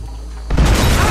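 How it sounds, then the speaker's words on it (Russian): A sudden loud explosion in Red Dead Redemption 2 erupts about halfway through, after a quiet low hum, then a sustained roaring blast and rumble fills the rest. "Я бы из Валентайна услышал этот взрыв."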